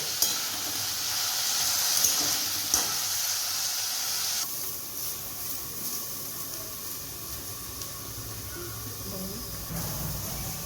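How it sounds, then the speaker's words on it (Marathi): Chopped onion frying in oil for a Khandeshi restaurant-style mixed vegetable dish gives a steady, close hiss and sizzle that continues throughout with only slight shifts in level. "इथं कांदा भाजणं चालू आहे।"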